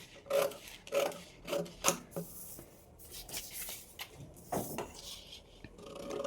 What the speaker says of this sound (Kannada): ಫಸ್ಟಿಗೆ ಇದನ್ನು ಕಟ್ ಮಾಡ್ಕೊಂಡ್ಬಿಡ್ತೀನಿ ಬ್ಯಾಕ್ ಪಾರ್ಟ್ನ.